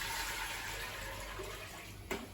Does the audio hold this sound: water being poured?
yes